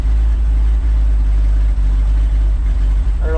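A 1962 Ford F600 truck engine idling while warming up with the choke partly on and misfiring a little, a loud steady low rumble with slight uneven stumbles, close up.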